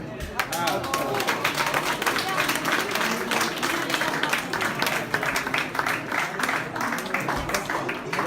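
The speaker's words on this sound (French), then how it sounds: "Et applaudissements." An audience at a medal-presentation seminar for administrators gives a sustained round of clapping, quite close and fairly loud, with voices and movement mixed in.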